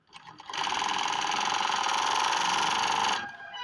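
An overlock sewing machine with a fabric-jamming fault runs steadily for about three seconds while stitching cloth, a loud, close, even whirring buzz that starts and stops abruptly.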